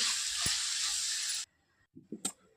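Ivy gourd curry with tomato sizzles loudly in a pan while being stirred, a steady hiss for about a second and a half before it cuts off, followed by a few soft clinks and scrapes.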